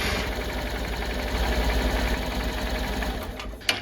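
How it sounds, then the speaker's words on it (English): A Honda CB125F motorcycle engine runs at a steady, loud idle with a fine mechanical chatter and rapid rhythmic pulsing, close by and without voices, followed by a sharp click near the end. "start the engine for 30 seconds"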